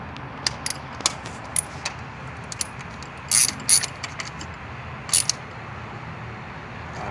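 A ratchet clicks in short, sharp bursts while snugging down a spark plug on a Toyota Corolla during a tune-up. The clicks are spaced irregularly and sit close and clear over a quiet background.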